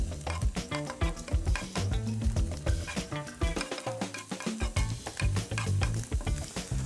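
Fish fries in garlic-flavoured oil with a loud, crackling sizzle, broken by repeated stirring scrapes and utensil clicks against the pan.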